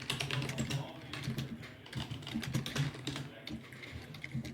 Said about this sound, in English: Can you guys hear typing away?